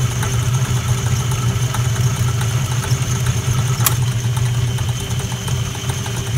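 A metal lathe turns 316 stainless steel, taking a heavy cut: a steady low hum and mechanical drone with a faint high whine, running evenly throughout with no talking.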